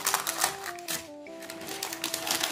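Quick, crisp rustling snips of parchment paper being cut, repeated rapidly over soft music in the background.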